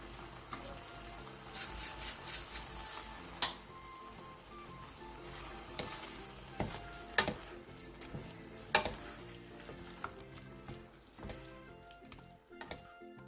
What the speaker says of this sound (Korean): 홍고추, 대파, 들기름 1스푼, 통깨를 넣고 가볍게 뒤적여 마무리해주세요